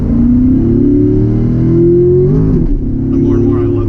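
A 2015 Corvette 3LT engine drones loud and steady from inside the car while driving on city streets, with a rising rev toward the middle before settling back into a constant low rumble.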